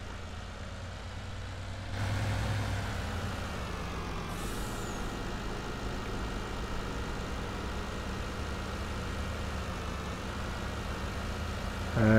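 A fast New Holland farm vehicle engine in Farming Simulator 19 drones steadily and loudly while driving between farm yards, getting louder in a step early on and holding a constant roar with no talking.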